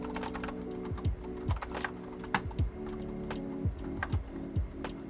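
Keys tapped on a computer keyboard in irregular bursts, close and fairly loud, over a steady low hum with several sharp low thumps mixed in.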